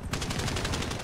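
Rapid automatic gunfire from the online game GTA V bursts in after a brief pause, a dense, loud rattle of shots that continues to the end.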